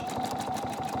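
Sewing machine stitching around the curved edge of an appliqué moon on a quilt, a quick steady mechanical chatter close to the mic with no talking.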